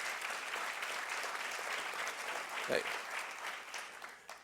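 Steady applause from a large audience at a talk, sustained across the whole stretch, with a brief shout rising over the clapping near the end.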